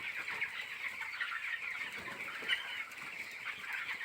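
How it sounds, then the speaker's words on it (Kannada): A dense, steady chatter of many broiler chickens clucking and peeping together in a poultry farm, a continuous flock murmur with no voices. "ಕೋಳಿ ಆ ಥರ ನೀರು ಕುಡಿತಾ ನೋಡ್ರಿ"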